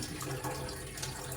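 Tap water runs quietly into a kitchen sink as tapioca is washed in fresh water, a soft, even flow throughout.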